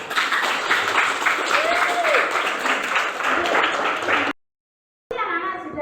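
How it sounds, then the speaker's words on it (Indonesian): A class of children applauds together, a dense, lively clapping sustained for several seconds before breaking off, with voices mixed in. "Tepuk tangan untuk semuanya."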